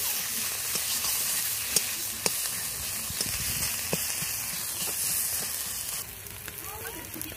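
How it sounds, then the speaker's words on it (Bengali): Chili powder and spices sautéing in oil for a Bengali fish curry (poush fish tel jhal), a steady close sizzle with a few sharp clicks of a spatula against the pan, quieting slightly near the end. "দিয়ে দিচ্ছি লঙ্কা গুঁড়ো। দিয়ে এটাকে একটু কষিয়ে নিচ্ছি।"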